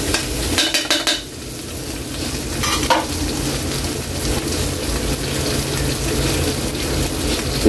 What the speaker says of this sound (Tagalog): Magigisa na tayo ng sangkap natin.